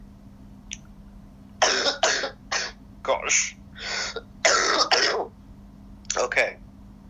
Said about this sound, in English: Okay. Done coughing.